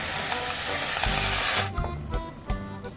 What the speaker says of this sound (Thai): เราก็เอาองุ่นของเรานะคะลงไปเลย ใส่ลงไปเลยจ้ะ ตามด้วยน้ำสะอาดสักเล็กน้อยนะคะ